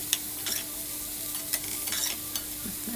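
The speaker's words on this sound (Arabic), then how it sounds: "نقلب بقى تقليبه" Kofta being stirred in a sizzling pan, a soft steady frying hiss broken by several light spoon clinks and scrapes at uneven intervals.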